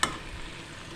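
Tteokbokki cooks in a pan with a steady, quiet sizzle and light frying crackle, heard close and alone for a brief moment.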